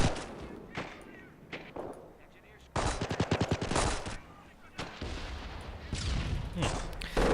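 Rapid machine gun bursts ring out in the World War II strategy game Company of Heroes, Blitzkrieg mod, with a dense, loud stretch of automatic fire in the middle and scattered shots and battle noise around it.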